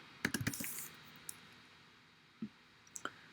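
A computer keyboard being typed on, a quick burst of clustered clicks at the start and then a few scattered single keystrokes, close and fairly faint, with no voices.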